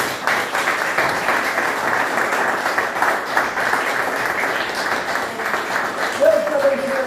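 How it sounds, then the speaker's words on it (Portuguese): A church congregation claps for the Lord during a service, loud and continuous, while a voice carries on over the clapping throughout. "Vamos dar a salva de palmas para o Senhor."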